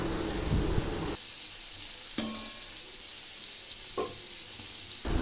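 Taro greens cook over a low flame in a home kitchen, headed for a ghonto with fried hilsa head. A soft sizzle comes first, then near-quiet broken by a few sharp spoon-and-pan clicks and scrapes, with no talking.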